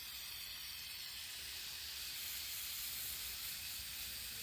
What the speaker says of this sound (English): right now we're just painting this metal sheet black